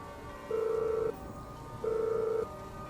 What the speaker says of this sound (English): A moment later, the phone rang again.